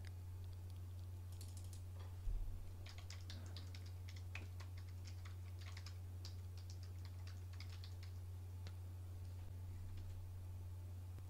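Soft keystrokes on a computer keyboard while editing website text in WordPress, scattered light taps over a low steady hum, faint and close with no talking.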